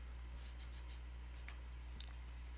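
Pen or chalk strokes writing out vector notation, a series of short scratchy bursts spread across the clip over a steady low hum, with no talking.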